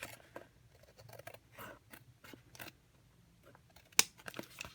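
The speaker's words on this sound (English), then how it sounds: "I'm going to trim straight across." Card stock for a Halloween Z-fold card is trimmed straight across, giving quiet, intermittent snips and paper rustles with one sharper click near the end, all close and soft.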